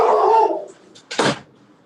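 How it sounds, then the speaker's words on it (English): A blue nose dog barks nearby indoors, one sustained loud bark followed by a short sharp second bark after a pause. "Christian, what kind of dog is that?"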